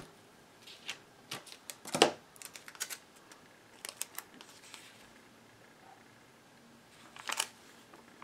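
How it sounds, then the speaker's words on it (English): Tape is pressed and smoothed onto the sides of a paper envelope: quiet, irregular clicks and crinkles, close and faint, with short pauses between them and no talking. "This envelope was kind of coming apart on the sides there, so I'm just adding my tape now."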